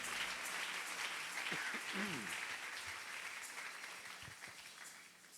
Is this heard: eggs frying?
no